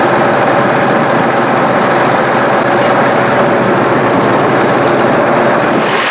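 A Case 1150 crawler's diesel engine runs steadily at a constant, unchanging pitch, loud and close, with a rough, knocking mechanical chug and no talking over it.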